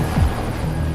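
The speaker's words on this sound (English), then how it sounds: "the emergency response team has organized the medevac rescue helicopter" A medevac rescue helicopter drones steadily and loudly throughout, with a constant rotor and engine roar and no pauses.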